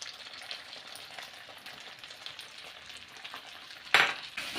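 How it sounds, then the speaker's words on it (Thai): Minced pork for southern Thai khua kling stir-frying in a pan, a constant low sizzle with soft spatula scrapes, then a sudden loud crackling burst as the pan is tossed near the end, up close, with no voices. "แล้วก็ผัดให้เข้ากันอีกครั้งนะครับ"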